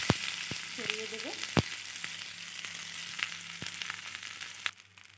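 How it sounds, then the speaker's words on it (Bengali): Pumpkin leaves spread over a little oil in a hot wok give a steady, soft sizzle with sharp clicks and pops scattered throughout, fading near the end. "কড়াইয়ে সামান্য পরিমাণ তেল দিয়ে দিয়েছি। এবার ওর উপরে মিষ্টি কুমড়ো পাতাগুলো আমি খুব ভালোভাবে"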